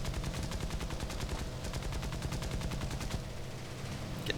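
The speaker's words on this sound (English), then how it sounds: "Going for a strafe from this guy." Aircraft machine guns firing continuously while strafing an enemy plane in the War Thunder air combat game, a rapid, steady rattling burst that fills the whole stretch, loud and close with no talk.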